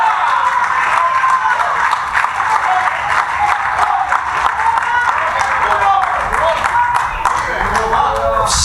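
A church congregation applauds, a loud continuous wash of clapping from a crowd filling the space with little break.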